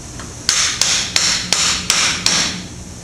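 Six sharp hammer taps strike a plastic pipe fitting at a steady rhythm, each a crisp, close knock with a short ringing decay.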